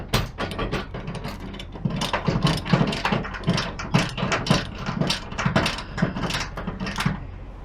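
A ratchet strap binder on a flatbed truck load is worked loose, producing a close, steady run of rapid metallic clicking pawl strokes with slight rhythmic pulsing across several seconds.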